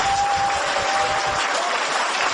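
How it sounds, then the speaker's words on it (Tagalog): An audience claps through the whole stretch, dense, steady applause from a seated crowd at a marketing seminar, filling the room at a constant level with no voices on top. "Kaya palakpakan po niya tayo."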